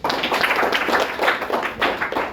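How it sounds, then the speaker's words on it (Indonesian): A classroom group clapping together in a steady burst of applause, close and lively, lasting a couple of seconds. "Tepuk tangan."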